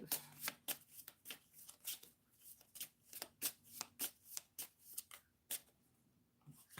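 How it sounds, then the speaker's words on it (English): Tarot cards are shuffled by hand in a quiet room, giving a rapid series of crisp riffling and flicking bursts in a steady, uneven rhythm, close and soft. "Cards are flipping all around sideways."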